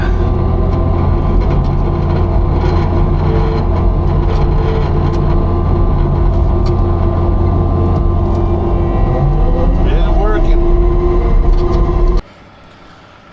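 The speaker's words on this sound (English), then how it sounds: "truck's backing in." A truck hauling road-base material backs in at a swamp road build site, giving a loud, continuous low rumble of engine and machinery that cuts off abruptly near the end.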